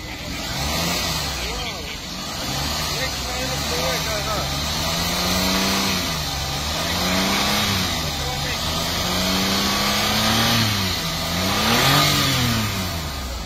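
A Suzuki minivan (multicab) engine revs repeatedly, rising and falling in pitch as the throttle is blipped, loud and close with a steady idle beneath and people talking nearby.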